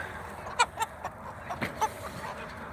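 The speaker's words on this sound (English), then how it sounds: "So this chicken tractor has my older Australorps that I hatched out." Several short clucks from older Australorp hens kept in a chicken tractor, spaced irregularly at moderate distance over a quiet evening outdoor background.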